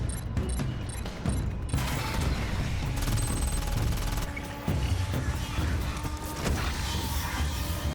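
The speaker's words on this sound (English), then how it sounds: "cluster grenades just they explode a bunch of them all at once" Cluster grenades going off in the shooter Aliens: Fireteam Elite 2, a loud dense barrage of rapid blasts and crackling bursts layered with gunfire and game effects, close and sustained throughout.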